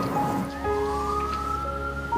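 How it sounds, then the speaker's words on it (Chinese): A police siren wails steadily and loudly, its rising and falling tones sustained for the whole moment with no voices. "你那边有警笛的声音"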